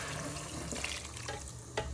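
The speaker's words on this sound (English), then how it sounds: "So you want to pour in all your stock." Stock pours from a container into a chilli pork casserole in a pan, a continuous close splashing trickle of liquid lasting the whole moment, with no speech.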